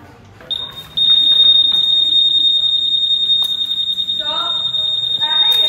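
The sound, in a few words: motorcycle anti-theft alarm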